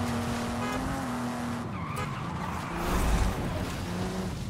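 A car in Forza Horizon 5 skids and spins out, its tyres squealing in wavering pitch over engine noise for a few seconds, fairly close and loud with no talking.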